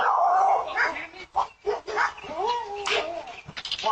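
A dog barks and yips in an outdoor confrontation, several sharp barks at close range with an uneven rhythm, mixed in with agitated people talking nearby.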